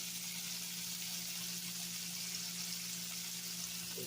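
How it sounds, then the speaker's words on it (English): Lamb chops braising in a pan, giving off a steady, even sizzle and crackle of frying close by, with a faint low hum underneath and no talking. "Just place them in the pan there. Braise them on both sides."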